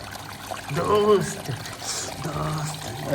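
Clean water runs from a household water filter, a soft pouring trickle heard beneath a voice as he talks over it.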